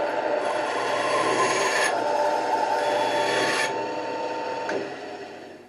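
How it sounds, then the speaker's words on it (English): Bandsaw cutting acoustic guitar binding wood strips to length, a steady rasping whine with a couple of short cuts back to back, then the blade noise tapering off. "Now we're just going to cut these down to length on the bandsaw."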